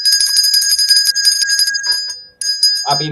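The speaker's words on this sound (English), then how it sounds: "This is the levity bell." A small podcast bell rings repeatedly in quick bright dings, close and loud, breaks off briefly, rings again, and then a voice starts speaking at the end.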